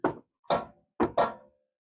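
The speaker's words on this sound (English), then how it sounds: "and knock it till it's loose" Someone hammers a socket on a tight rear wheel hub nut of a Kia Forte to break it loose. Four sharp, close knocks land in an uneven rhythm with short gaps between them.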